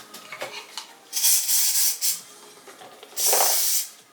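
A few faint clicks, then two hissing bursts from a spray bottle, the first lasting about a second with short pulses, the second a single steady spray.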